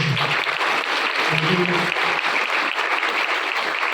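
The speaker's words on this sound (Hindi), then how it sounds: "तो मैं डॉक्टर आर के मेहता जी के लिए एक बार जोरदार तालियों से" Steady applause from a crowd honoring Dr. R K Mehta at a CPR awareness camp, dense and sustained for several seconds, with brief voices in the low range near the start.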